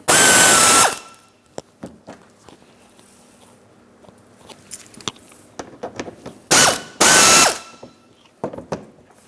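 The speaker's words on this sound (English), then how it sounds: "So I've got my Phillips head, small ratchet." Small hand ratchet loosening hardware on the front bumper of a Chrysler Town & Country minivan, a series of close, dry clicking bursts at irregular intervals, with two loud broadband rushes near the start and end.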